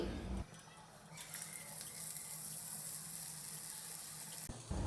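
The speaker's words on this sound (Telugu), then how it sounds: "ముందుగా ఒక చిన్న బజ్జీ వేసి ఆయిల్ వేడైందా లేదా చెక్ చేసుకోవాలి." A small potato bajji fries in a pan of hot oil, hissing and sizzling steadily and fairly quietly for several seconds, with a sharper crackle at the start and end.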